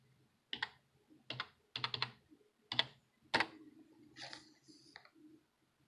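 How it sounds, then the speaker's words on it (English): Keys on a computer keyboard are typed in several short bursts of quick clicks with brief pauses between them. The sound is close and alone, with no talking, while a Windows 10 Gateway computer is being set up. "Let me type the key."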